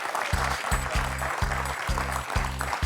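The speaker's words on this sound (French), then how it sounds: "On peut applaudir Didier, hein?" Studio audience applause on a French TV quiz show, a steady wash of clapping over a low, rhythmic thumping beat that pulses about every half second.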